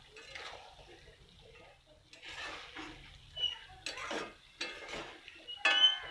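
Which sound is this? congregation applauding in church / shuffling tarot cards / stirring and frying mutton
stirring and frying mutton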